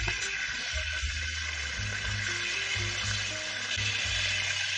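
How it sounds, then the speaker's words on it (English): Cod fillets dusted in flour fry in a shallow base of olive oil, giving a steady soft sizzle throughout with a low hum beneath and no voices. "Now we fry the cod in a base of olive oil and let it cook for a minute on each side"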